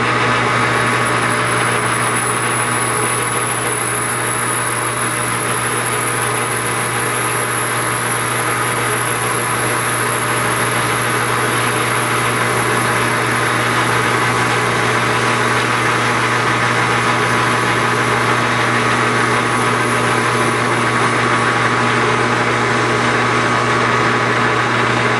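A lathe drills into a stainless steel Stirling engine hot cap, a loud, constant machine drone with a steady hum and high whine holding unchanged throughout.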